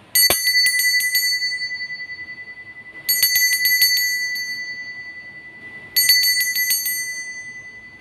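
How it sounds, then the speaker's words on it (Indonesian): A bright metallic bell rings in three separate bursts, each a quick cluster of dings that rings out and fades before the next. "kita akan memulai dengan ditandai lonceng berbunyi"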